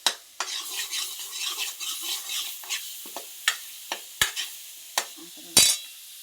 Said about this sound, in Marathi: हा बघा असा गोळा होऊ द्यायचा बरं का, त्यावेळेस मग मसाला भाजला जातो.